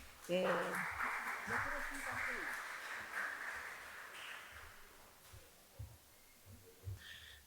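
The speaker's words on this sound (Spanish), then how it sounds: "un aplauso para el profesor Hermes." Audience applause at a lecture on music in literature, a dense, steady clatter of many hands that fills the room for about four seconds before fading into quieter room noise.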